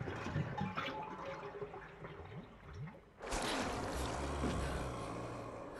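Plug pulled from a bathtub full of dirty water in Resident Evil Remake HD, a soft gurgle giving way to a sudden loud, steady rush of draining water that continues to the end.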